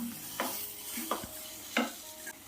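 A few scraping strokes of a spoon stirring a mashed banana mixture in a pan, spaced irregularly over a soft background sizzle.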